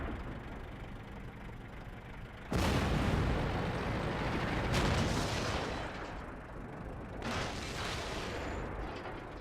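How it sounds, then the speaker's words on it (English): Heavy artillery shell striking a tank in World of Tanks, a sudden loud booming impact followed by a second explosive hit a couple of seconds later, over rumbling engine noise. "I wonder if one was an artillery shot"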